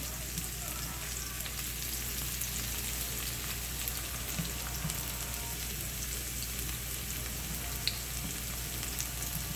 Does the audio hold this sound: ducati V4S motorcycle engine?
no